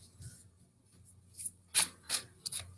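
Tarot cards being shuffled up close, soft rubbing and a few quick riffling bursts, quiet with no talking.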